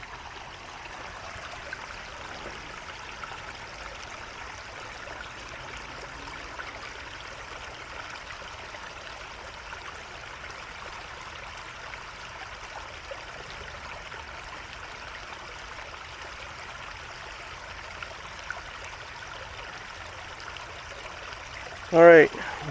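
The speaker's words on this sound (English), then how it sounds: "I'm just going to let you listen to the creek for a second here." Steady broadband rush of a creek flowing, soft and continuous, with a brief louder voice-like burst near the end.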